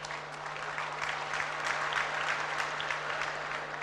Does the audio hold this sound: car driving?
no